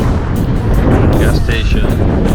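Strong wind buffeting a microphone outdoors in hot Death Valley at night, a loud, continuous low rumble with gusty surges throughout.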